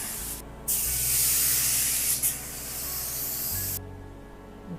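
A spray gun applies clear coat to a car in a close, loud hissing burst lasting about three seconds. It breaks briefly near the start and dips midway, then cuts off, leaving a low hum.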